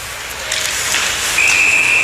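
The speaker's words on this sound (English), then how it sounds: "And we got a whistle." A referee's whistle blows at a high school ice hockey game in Mahtomedi, a single sustained shrill blast over arena crowd noise near the end.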